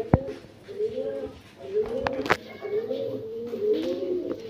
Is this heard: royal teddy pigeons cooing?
yes